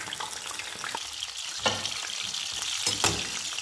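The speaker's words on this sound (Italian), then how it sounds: "Quindi 3 alla volta andrò a friggerli tutti." Battered zucchini flowers frying a few at a time in hot oil, giving a steady close sizzle and crackle with occasional sharper pops and stirring sounds, no talking.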